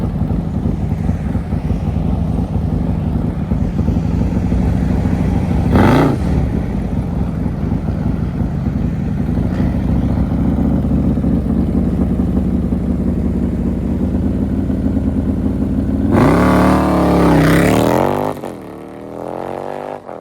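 A Harley-Davidson Road Glide motorcycle makes a fast pass, its engine droning loud and steady before a rising, sweeping roar near the end that then drops away.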